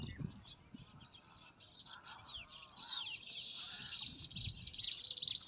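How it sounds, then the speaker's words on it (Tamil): Many birds chirp and call together in a busy, continuous chorus, with a faint insect-like hiss and low rumbling in the background. "பறவைகள்லாம் அவ்வளோ பறவைகள் இருக்குது பாருங்கள்"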